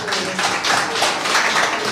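An audience claps at a board of directors meeting, producing a steady, dense patter of hand claps that holds at an even level throughout, close and fairly loud.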